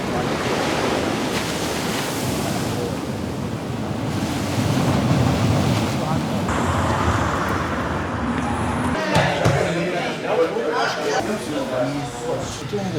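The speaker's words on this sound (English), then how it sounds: "Good waves, beautiful weather, such an amazing place." Ocean surf rolls and washes onto a beach in Rio de Janeiro, a steady roar mixed with gusty wind buffeting the microphone, with people talking over it.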